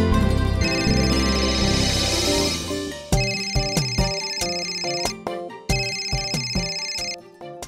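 A mobile phone in a Marathi TV serial scene plays a melodic ringtone, a loud, bright tune of repeating tonal notes that runs for about eight seconds with no talking over it.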